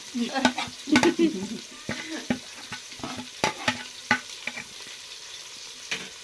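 Onions frying in a pan at a home kitchen stove, with crisp scraping clicks and clatters of stirring over a steady sizzle, close and fairly loud, no voices.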